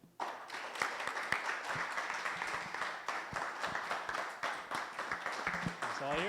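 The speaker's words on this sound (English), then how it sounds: "Big round of applause" Audience applause at a Bitcoin meetup as a presenter is called on stage, steady dense clapping filling the room for several seconds and fading slightly toward the end as voices begin.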